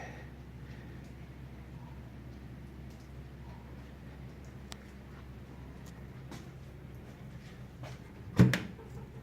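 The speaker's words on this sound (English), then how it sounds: "Nice little spring-loaded latch." Swing doors of a custom-fitted fireplace insert with a spring-loaded latch, one brief metallic clack near the end over a steady low background hum.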